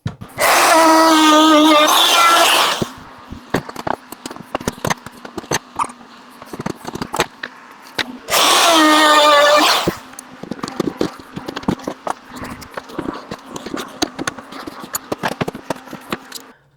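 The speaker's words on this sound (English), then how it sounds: "now that I've cut all my reliefs and I've routed it twice, once with the straight bit and then once with the 14-degree dovetail bit" A handheld router cutting dovetail reliefs in wood, first with a straight bit and then a 14-degree dovetail bit, roars loudly in two bursts of a few seconds each, separated by the clatter and taps of shop handling.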